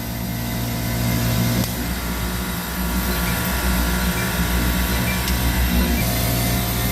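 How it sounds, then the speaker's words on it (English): A Copeland digital scroll compressor runs steadily up close, a continuous low mechanical hum and drone with a faint tonal whine, holding even in loudness with no talk. "So right now, this compressor, you can hear it, listen to it."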